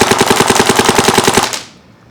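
A paintball marker fitted with a CRBN FP PWR barrel insert fires a rapid, evenly spaced string of about a dozen loud, close pops, then stops abruptly and leaves near silence.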